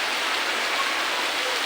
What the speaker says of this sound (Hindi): हमारे यहाँ तो देखिए आप लोग को हम दिखाए रहे हैं कि कितना ज़्यादा बारिश हो रहा है